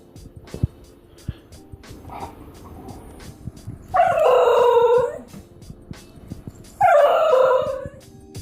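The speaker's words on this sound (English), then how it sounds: "the Basenji makes characteristic yodel-like sounds" An excited Basenji gives two separate warbling, yodel-like howls, each about a second long, against a quiet background with faint ticking noise.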